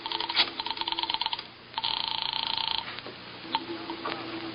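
Telephone dialed in a 1948 radio detective drama: two runs of rapid, even ticking clicks separated by a brief pause, then a few scattered clunks, moderately loud with no voices over them.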